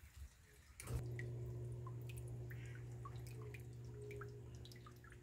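Water drips and trickles through the channels of a hydroponic growing system, soft scattered drops over a steady low pump hum that begins after a brief quieter start.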